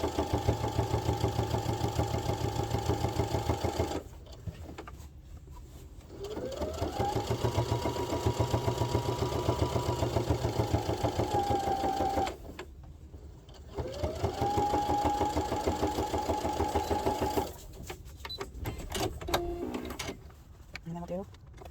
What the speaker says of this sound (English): we're going to do a top stitch along that just to finish it off